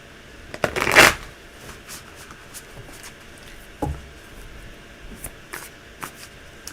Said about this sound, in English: supposed to shuffle first this time.